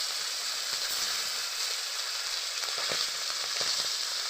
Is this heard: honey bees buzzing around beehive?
no